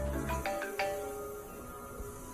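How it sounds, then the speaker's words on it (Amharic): A mobile phone ringtone chimes in a few quick melodic notes at the start, then its tone lingers faintly against a steady indoor background, with no talking. "ስልክሽ ይጮሃል"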